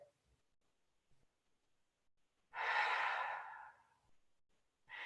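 A single long, soft exhale during a gentle yoga flow, a breathy whoosh lasting over a second that rises quickly and slowly fades, close and clear, with near silence before it.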